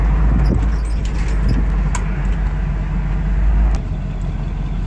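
A 1976 GMC Jimmy's engine runs with a throaty exhaust while reversing, a steady low rumble close by with a faint jingle of keys.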